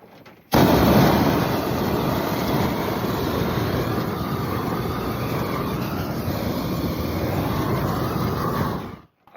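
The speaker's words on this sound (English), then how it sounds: "Let's give it a little bit more flame to that wood." A blow torch flame roars steadily against a piece of regular wood, a loud, continuous broadband hiss and rumble that starts abruptly and holds for about nine seconds before cutting off.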